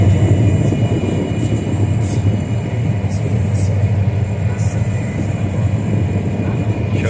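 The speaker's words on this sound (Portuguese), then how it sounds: "vou aproximar agora pra mostrar o avião. Ele tá voando alto." An airplane flying high overhead gives a steady, low, broad rumble with wind and field noise over a soybean farm, continuous throughout and fairly loud, with no voices.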